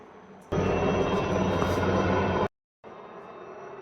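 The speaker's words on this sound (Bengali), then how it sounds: "দেখো হেলিকপ্টারও দেখিয়ে দিলাম তোমাদেরকে" A helicopter passes over a north Sikkim mountain road with a loud, steady, rushing roar that cuts off abruptly, then returns at a lower level.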